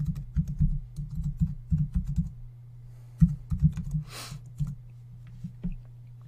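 Fingers type on a computer keyboard in bursts of quick, close clicks, entering Java code into a Mac terminal while installing a Minecraft Bukkit server, with a short pause between runs and a low steady hum underneath.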